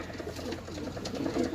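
Pigeons cooing close by, soft low repeated coos over a faint background murmur, brief and continuous.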